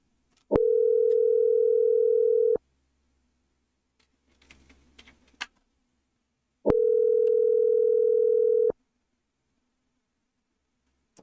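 A telephone rings twice on an outgoing call, each ring a steady electronic tone lasting about two seconds. Between the rings, faint clicks and rustles are heard.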